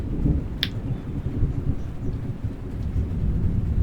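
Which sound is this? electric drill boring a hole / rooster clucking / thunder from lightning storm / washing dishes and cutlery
thunder from lightning storm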